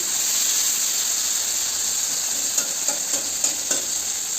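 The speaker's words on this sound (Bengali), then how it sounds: "বিনস ভাজা কমপ্লিট, এবার ক্যাপসিকাম ভাজছি।" Capsicum frying in a small wok, a bright continuous hiss of hot oil with a few light clicks of stirring toward the end, close and steady.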